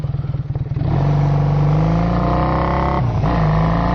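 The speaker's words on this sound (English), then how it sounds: "The bike did idle" A Kawasaki KZ440 motorcycle engine, running lean, putters with slow, uneven pulses at first, then climbs to a steadier, faster hum, dips briefly, and recovers, all close and loud with no talking.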